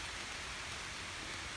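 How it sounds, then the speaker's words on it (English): Steady rain patters down through a forest near old cabin ruins, a dense, even hiss with no breaks, fairly close and fairly loud, with no voices. "it's starting to rain pretty good"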